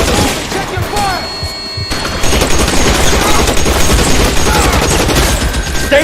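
Heavy gunfire in the LA Noire video game, a dense, loud run of shots and thuds that keeps going, with a voice breaking in at the start.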